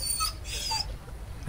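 A dog whimpers and whines in the fantasy role-playing game Dragon Age: Origins, with a few short, high, nasal yelps over a low steady background hum, close and fairly quiet.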